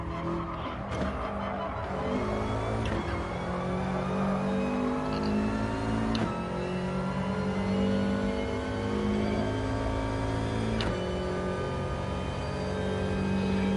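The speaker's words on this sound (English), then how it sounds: "Now I'm using quite a lot of the rev range here" A Subaru race car engine in a racing video game revs high through the gears, a loud, close whine that climbs in pitch, drops sharply at each shift and climbs again, with brief tyre squeal.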